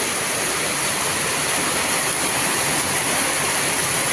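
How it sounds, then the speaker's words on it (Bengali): Loud, constant rush of heavy rain pouring down, a dense hiss with no breaks and no voices. "এই যে ভালোভাবে বৃষ্টি হইতেছে দেখেন পানি দেখুন ভরে গেছে"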